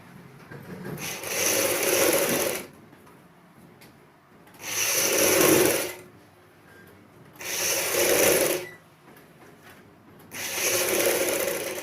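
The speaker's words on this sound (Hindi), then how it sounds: "जो हमने कट लगाए थे वहाँ से हम सिलाई लगाते हैं" A sewing machine stitches seams on choli blouse fabric in four separate bursts of a few seconds each, close and steady, with short quiet pauses between them and no talking.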